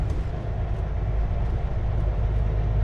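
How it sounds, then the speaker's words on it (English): A freight train rolls past in Cranbrook, British Columbia, a steady low rumble with faint wheel clatter heard from nearby outdoors, continuous throughout. "see there's a train going by."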